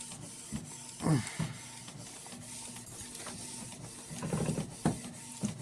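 A photo printer feeds out a photo with a soft mechanical whir, punctuated by a few sharp clicks and rattling bursts of the paper transport, close and moderately quiet.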